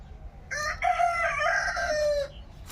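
Free-range country chickens in a rural yard let out a clear, fairly close rooster crow lasting nearly two seconds, with a bit of clucking around it and no talking.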